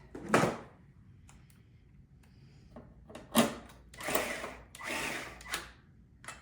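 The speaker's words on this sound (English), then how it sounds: "So we're going to put the screw on first, and then there is a gold washer that goes behind that." A screw and a gold washer being fitted onto the thread guide of a Gen 4 Fuse, heard as a few quiet, close metallic clicks and scrapes separated by pauses, with no talking.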